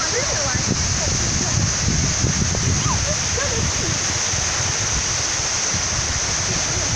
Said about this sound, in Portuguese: é 100 metros de queda d'água